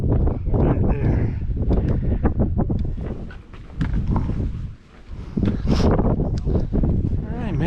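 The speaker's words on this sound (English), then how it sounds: "Windy, windy, windy." Gusty wind buffets the microphone on the Jacks Knob mountain hiking trail, rising and falling in loud rumbling surges, with footsteps and a person talking throughout.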